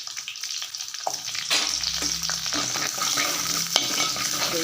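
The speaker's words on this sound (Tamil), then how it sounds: "எண்ணெயிலேயே சின்ன வெங்காயம் அடுத்து பூண்டு போட போகிறோம் ரெண்டும் நல்லா எண்ணெயிலேயே நல்லா வதங்கணும்" Small onions and garlic frying in oil for a spicy kara kuzhambu, with a bright, continuous sizzle that swells as the ingredients go in, plus occasional stirring scrapes and no voices.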